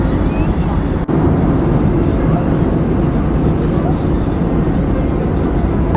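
Loud, steady roar inside an airliner cabin during a turbulent climb on a Mumbai to Tirupati flight, a broad, unbroken rumble of engine and airflow with a brief dip near the start and a voice over it.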